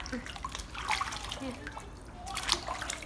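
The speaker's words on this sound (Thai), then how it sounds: "มาล้างมันน้ำกันเนาะ" Tubers being washed by hand in a basin of water, soft sloshing, trickling and dripping close by, with a voice speaking in the background.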